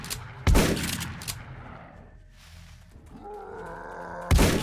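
Gunfire in the survival video game 7 Days to Die, a loud close shot, a lighter one after it, a quieter lull, then another heavy report at the end.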